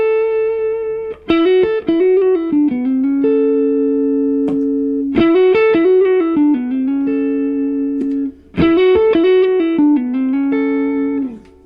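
Electric guitar through a Line 6 HX Stomp running its Tone Sovereign overdrive model, playing three short repeated phrases of picked notes with sustained endings, loud and close.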